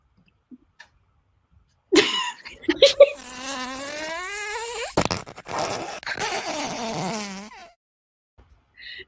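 A comedic fart noise sound effect plays in a game-show style comedy sketch, a buzzy, wavering blast lasting several seconds, broken by a short gap partway through, preceded by a couple of faint clicks.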